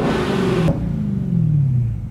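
A 700-horsepower Dodge Hellcat engine rumbles loudly nearby, rising and falling through a short rev.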